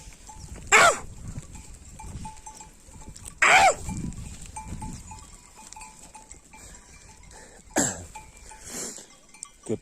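Outdoor farm ambience with scattered bleating from a flock and clanking bells, a few loud calls near by and quieter ones farther off.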